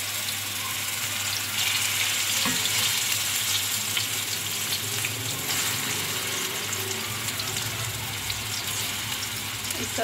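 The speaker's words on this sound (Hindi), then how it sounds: "अब हम जो पत्ते काटे थे वो फ्राई करेंगे।" Taro (arbi) leaves fry in a little oil in a kadai, giving a continuous, fairly loud hiss and sizzle that holds steady across the whole stretch, with no one speaking.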